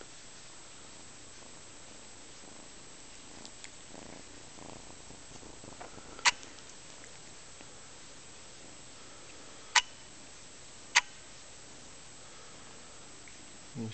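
A cat purring softly and steadily, close but quiet, with a few sharp clicks breaking through the low continuous rumble.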